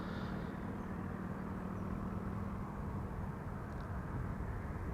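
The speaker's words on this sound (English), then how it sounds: "This is United Flight 70. Coming in from Newark" A United airliner arriving from Newark at Amsterdam Schiphol passes as a faint, steady distant roar of jet engines, an even wash of noise with no talk over it.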